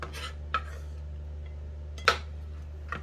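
Knife chopping garlic on a board while cooking: a few sparse, sharp taps over a steady low hum, with the loudest strike near the middle.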